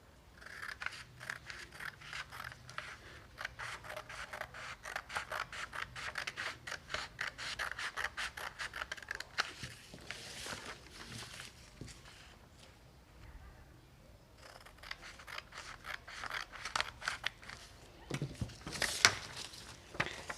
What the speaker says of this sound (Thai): ตัดกระดาษออกเลยนะคะ